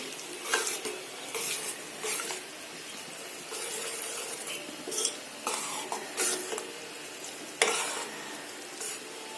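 Split mustard seeds fry in hot oil for an amla pickle, a continuous crackling sizzle with repeated scraping, clinking strokes of a spoon stirring around the pan.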